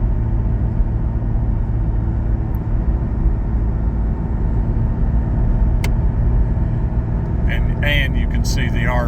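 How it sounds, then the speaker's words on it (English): Steady low exhaust drone from a car fitted with a Soul Performance V2 exhaust and sound symposer delete, a continuous rumble throughout with a brief higher chirp near the end. "Intentionally trying to talk less so you can just hear the car."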